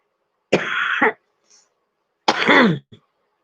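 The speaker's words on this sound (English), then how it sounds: "I cough my lungs out every morning." Two harsh, throaty habitual morning coughs close by, separated by a short pause, each followed by a brief catch of breath.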